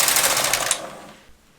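A domestic knitting machine carriage runs across the needle bed on a loose, high-tension row, giving a fast rattling clatter that stays loud for most of the stroke, then thins and fades toward the end.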